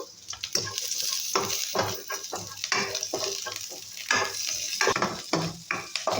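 Carrot and onion sautéing in oil, heard as a busy, uneven crackle with repeated scraping stirs and clinks of a spatula against the pan, close and fairly loud, no speech.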